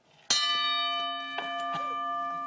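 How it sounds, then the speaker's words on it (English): A single bright bell is struck once, ringing out clearly up close and sustaining a long, shimmering tone with steady harmonics that fades slowly across the clip. "You cannot lie when the bell of truth is rung."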